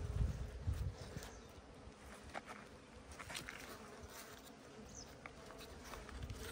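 Honeybees at a hive during an inspection, buzzing continuously in a soft, close drone with individual bees passing near, plus faint rustling and small taps around the hive, no talk.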